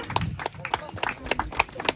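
An audience claps at a traditional Tripuri ceremony, scattered uneven hand claps ringing out close by with a voice speaking among them.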